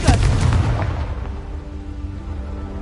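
A Confringo blasting spell detonates in Hogwarts Legacy as one loud, close, booming explosion that hits at once and then rumbles away into a fading tail.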